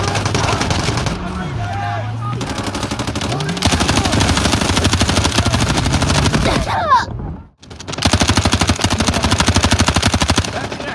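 MCX rifle fire in the mobile shooter Delta Force Mobile comes in loud, rapid automatic bursts with short pauses and one brief drop-out, and a sliding tone runs beneath the early shots.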